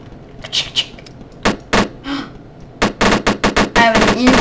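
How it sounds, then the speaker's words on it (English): Tommy gun fire in a Roblox game, a series of sharp, loud bursts and single shots spaced across a few seconds, ending in a rapid rattling volley. "I want to use my Tommy gun"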